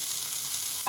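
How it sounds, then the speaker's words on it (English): Chopped onions sizzle in hot bacon grease in a pan, a steady soft frying hiss with a brief stirring scrape near the end. "Chopped up onions. Sizzle, sizzle."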